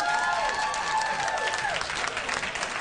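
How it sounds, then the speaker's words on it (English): Audience applause at a stand-up comedy show, a steady wash of clapping from a crowd that holds at moderate level throughout, with faint tonal sounds sliding underneath. "Let's clap for the penis."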